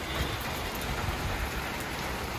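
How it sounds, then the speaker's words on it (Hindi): Heavy rain pours steadily and loudly in a continuous dense hiss with low rumbling spatter, close by and uninterrupted, with no voices. "बारिश जोरदार आ रहा है यार"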